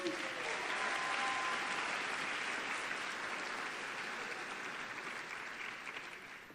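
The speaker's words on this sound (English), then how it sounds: "Let's applaud all of these students." An audience at a 2019 high school honors convocation applauds honored students, a broad, sustained roar of clapping from many people that holds steady and slowly tapers toward the end.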